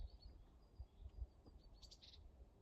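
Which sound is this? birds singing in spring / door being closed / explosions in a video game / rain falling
birds singing in spring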